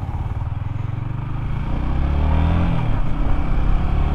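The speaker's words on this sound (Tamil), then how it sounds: "ஸ்டார்ட் பண்ணும்போது சவுண்ட் நான் கேட்குது, இதில் வித்தியாசமாக." A Yamaha MT-15 V2 motorcycle engine runs at close range, a steady low throbbing idle with a slight rise in revs partway through.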